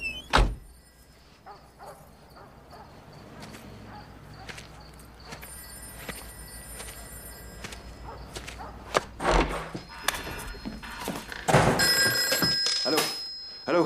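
A telephone rings in a French-dubbed film scene: repeated bright bell bursts recur through a quiet room, with a few soft thuds and knocks between the rings.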